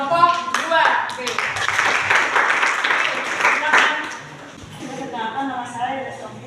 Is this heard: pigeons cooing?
no